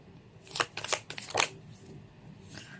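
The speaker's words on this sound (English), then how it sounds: "he saw me shuffle as always" Tarot cards are shuffled in several quick riffling bursts, close and crisp, with a fainter final shuffle after a short pause and no talking.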